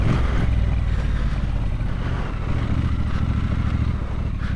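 Steady engine roar from a Triumph Scrambler 1200 XE motorcycle on an off-road test ride, heard close and continuous with heavy wind buffeting over the microphone and no pauses.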